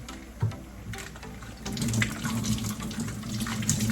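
A little water pours from a tap into a pan of tomato sauce in the kitchen, a soft running splash that grows steadier and fuller after a brief knock, with no talking.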